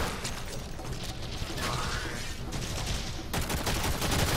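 Rapid bursts of automatic gunfire rattle almost continuously in the Warframe shooter during a core defense mission, dense and loud with mechanical weapon clatter and no talk.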